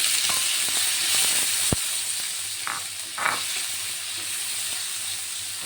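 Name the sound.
tomatoes stir-frying in oil in a pan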